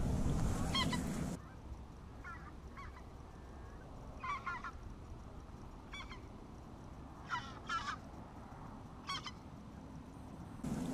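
Greater white-fronted geese, or specks, call during a duck hunt in Nebraska, giving repeated high, yelping honks in scattered bursts. The calls sound fairly distant over steady outdoor background noise, with a louder low rumble at the start.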